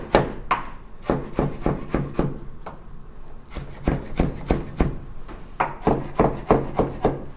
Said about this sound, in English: just run the knife one direction along all our slices